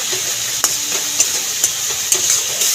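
Masala with a pinch of Kashmiri chili powder fries in oil for a Bengali vegetarian pointed gourd and peanut dish, a steady close sizzle with a few sharp stirring scrapes at regular intervals and no talking.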